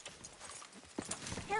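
Horse hooves clip-clop in the Red Dead Redemption 2 game world. The steps are fairly close, with game dialogue and ambient sound over them and a brief chime near the end.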